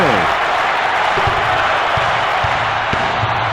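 Video game crowd in NCAA March Madness 2001 on PS1 roars in a steady, loud wall of cheering and applause, with brief thumps of the ball bouncing beneath, while a play-by-play commentator talks over it.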